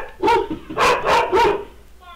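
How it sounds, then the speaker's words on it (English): Dogs bark in three loud, close bursts spaced about half a second apart, followed by a brief quiet tail. "There's dogs everywhere."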